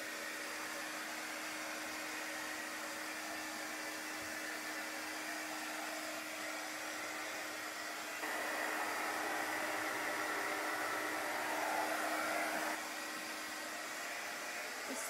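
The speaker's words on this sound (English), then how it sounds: "This paint, this fusion mineral paint dries pretty quickly with the dryer." A hair dryer blows a steady, loud, broadband airflow roar while it dries Fusion mineral paint on a craft project. Partway through, the sound brightens and gets a little louder for a few seconds, then settles back.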